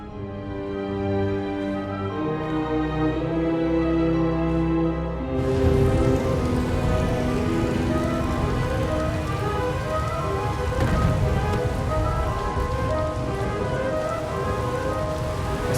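Steady heavy rain pours without pause in a storm in the video game Star Wars: The Old Republic, a dense hiss layered over a sustained tonal music bed, with a low rumble swelling near the middle.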